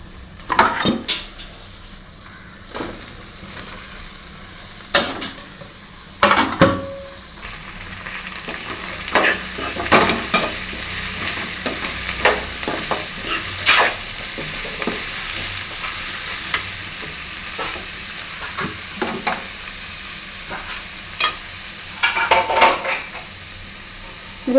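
Onions for paniyaram fry and sizzle steadily in a pan, with repeated sharp stirring scrapes and utensil knocks against the metal throughout; no talking.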